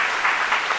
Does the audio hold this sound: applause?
yes